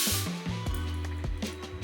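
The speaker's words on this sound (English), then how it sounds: "I'm also gonna put some of this Living Proof Dry Volume and Texture Spray." Short hissing bursts of Living Proof Dry Volume and Texture Spray misted onto hair, close and fairly loud, a few quick sprays in a row with no talk.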